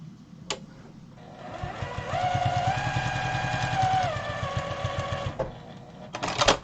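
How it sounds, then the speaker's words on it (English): Sewing machine stitching down the side of a simple quilt block, a steady rapid mechanical chatter with a whirring motor that runs for a few seconds, then stops, followed by brief handling clicks. "I'm going to sew down the other side"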